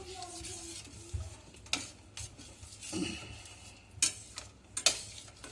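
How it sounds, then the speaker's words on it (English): Scraping and stirring in a pot of curry with turmeric in hot oil, a soft sizzle underneath, a few sharper clinks of a utensil near the end, no talking. "Give this a stir."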